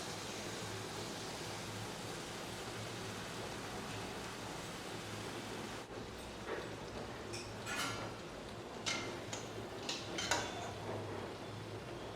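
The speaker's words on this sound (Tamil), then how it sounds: "இப்போ எண்ணெய் காஞ்சிச்சு இதில் நம்ம ஜிலேபியை புரிஞ்சிடலாம்" Jalebi batter frying in hot oil over low heat, a steady broadband hiss with scattered small pops and crackles growing more frequent toward the end, no talking.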